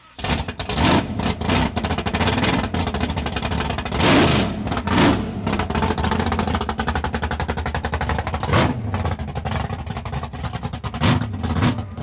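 A 1962 Chevrolet Bel Air with a 409 engine starts with a push-button and revs hard, loud and close, its rough, rapid burbling exhaust pulsing throughout with several sharp surges of throttle.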